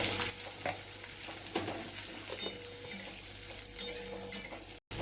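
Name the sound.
onion and cumin frying and being stirred in a pan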